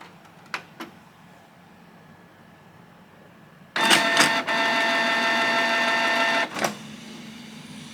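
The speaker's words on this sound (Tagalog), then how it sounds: "i-on muna natin tong printer" A couple of soft clicks, then a Canon G1010 inkjet printer powers on and whirs into motion with a loud mechanical grinding that runs for a few seconds before settling to a quieter hum.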